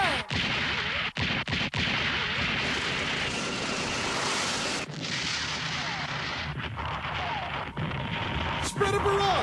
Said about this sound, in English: Then prepare to fire the main gun.